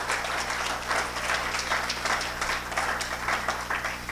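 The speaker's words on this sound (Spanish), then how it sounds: "Le damos un aplauso al Señor, hermano." Applause from a church congregation during a Spanish-language Bible study service, a steady wash of many hands clapping at moderate volume for about four seconds with no voices over it.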